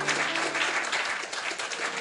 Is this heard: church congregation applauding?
yes